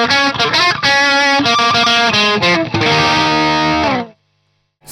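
A guitar solo at full speed: a fast, loud, distorted electric guitar line with choppy muted-string clicks between the notes, played alone and close, stopping abruptly near the end.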